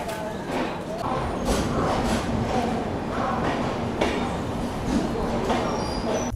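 Long-distance train pulling out of Guwahati station: a steady loud rumble of wheels and carriages with rhythmic clacks over the rails, heard from inside the coach throughout.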